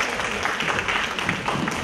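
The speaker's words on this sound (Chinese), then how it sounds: "再次掌声欢迎他们" An audience claps at a live Yu opera event, a dense, even burst of applause that fills the short moment without a break.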